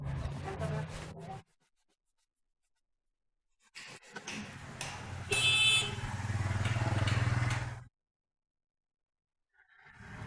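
A motorcycle carrying a father and child starts and rides off in an Indonesian neighbourhood, its engine revving up over a few seconds then cutting away to silence, with brief rustling before it.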